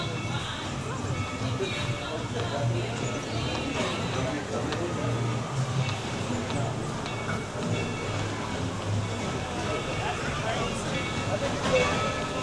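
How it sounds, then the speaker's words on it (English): Steady rumble of a train at Dollywood's country fair area, running continuously under busy park crowd noise with a low drone throughout. "Here's that train. You guys see it right here."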